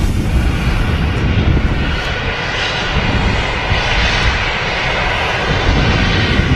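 An Airbus A320 jet climbs away after takeoff at Manchester Airport, producing a continuous heavy engine roar that stays loud and even throughout.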